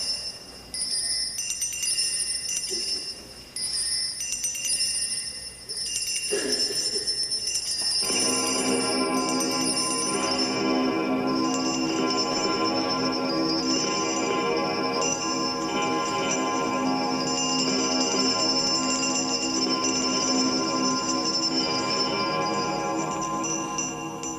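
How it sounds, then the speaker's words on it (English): House bells ringing together in a sustained, shimmering peal that starts softer and swells into a loud, continuous chorus of overlapping tones lasting the whole stretch. "he saw this bell begin to swing, first softly, then so loudly every bell in the house joined in and rang also"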